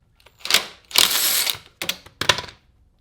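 A bolt on a Honda Rebel 500 foot peg mount is tightened with a ratchet, giving four short bursts of clicking close up, the second one longer and steadier, with brief pauses between.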